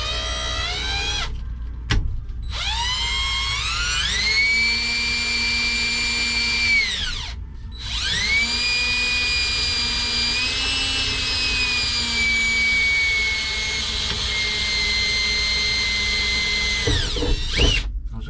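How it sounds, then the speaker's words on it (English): A power drill with a dull bit whines steadily at close range while drilling bolt holes on a 1969 GMC, its pitch dipping and climbing as it bites in, with two brief pauses before it spins up again. "did I pick the most dull drill bit I have?"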